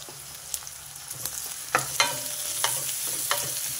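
Onion and green chilli sautéing in a pan, a soft steady sizzle broken by several sharp spoon-on-pan stirring clacks, close and without talk.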